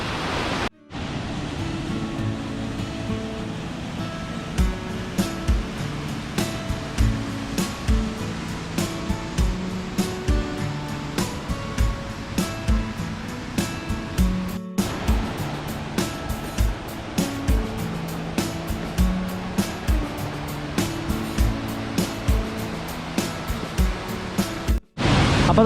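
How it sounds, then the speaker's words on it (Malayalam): Seethammakund waterfall in Wayanad, a two-tiered fall, gives a dense, unbroken rushing roar throughout with faint ticking clicks, heard near and with no voices. "അപ്പോൾ നമ്മുടെ വെള്ളച്ചാട്ടം എങ്ങനെയുണ്ട്?"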